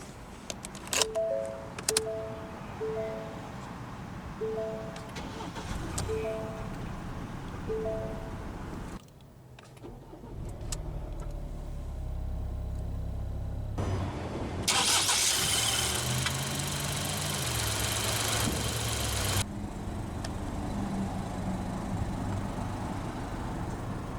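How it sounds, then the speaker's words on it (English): A 2022 Ford Escape S AWD engine cranks and catches, then settles into a steady, low idle that continues for several seconds, preceded by a few electronic chimes. "let's go ahead and start the engine"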